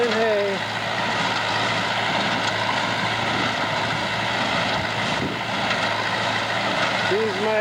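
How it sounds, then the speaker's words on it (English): A tractor baling hay on an Illinois farm runs with a steady, droning engine hum and the rhythmic mechanical churn of the baler, loud and continuous throughout, with a voice speaking briefly over it. "Baling hay."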